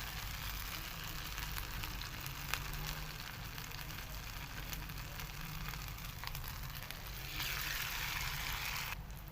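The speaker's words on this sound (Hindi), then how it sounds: "तो अब हमारी जो फ्राइज़ है वो अच्छे तरीके से फ्राई हो रही हैं।" Potato and semolina finger chips fry in oil over a low flame, giving a steady, soft broadband sizzle that keeps going with no pause. Nobody speaks.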